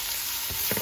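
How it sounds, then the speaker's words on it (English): Sausage sizzles steadily in hot oil and butter in a pot over medium-high heat, a dense continuous frying hiss with a couple of soft stirring bumps near the end. "To my pot over a medium-high heat, I'm going to get in the oil and the butter. As well as the sausage."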